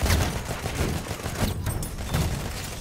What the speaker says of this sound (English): Shoot the AA gun.